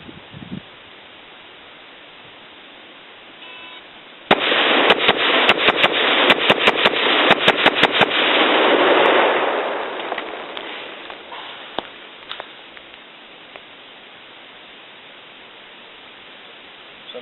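Rifle shots ring out during a V-Tac 1-5 drill at an outdoor range, a rapid string of sharp cracks packed over about four seconds, followed by a few sparser shots as a broad rushing noise fades.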